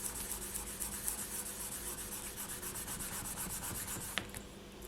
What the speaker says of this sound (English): we're just going to gently smooth that out